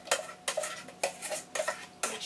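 Spoon stirring lentils into a stew in a pot, about five sharp metallic scrapes and clinks at a regular rhythm, close and fairly loud, no talk.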